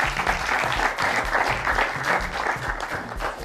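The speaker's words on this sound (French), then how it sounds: "Applaudissez très fort pour lui" A studio audience at a televised football-themed talent show claps loudly and continuously, a dense, close roar of hands that runs steadily throughout without fading.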